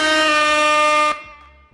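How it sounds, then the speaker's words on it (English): A loud, blaring air horn sounds in one sustained blast for about a second, then cuts off abruptly, leaving a brief fading echo. "That's an air horn"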